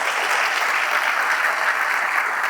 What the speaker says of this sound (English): so would you give them an applause, please?